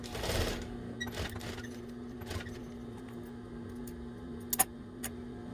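A sewing machine back stitches an Easter egg applique onto a towel, running with a low steady hum under soft needle ticks, ending in a couple of sharp clicks.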